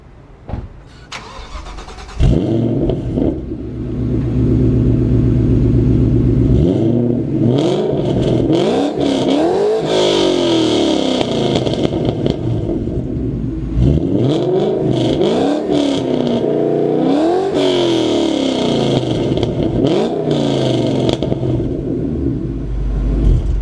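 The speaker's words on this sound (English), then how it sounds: "I also love the sound of the engine." A 2014 Shelby GT500 Mustang V8 starts and revs repeatedly, loud and close, with the engine rising and falling in several sharp throttle blips over a steady rumbling idle.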